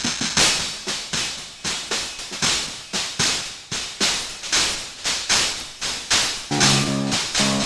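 Drum kit run through the Airwindows Nikola distortion plugin, giving harsh, saturated hits in a steady driving pattern, loud and gritty throughout, with a buzzing tonal layer near the end.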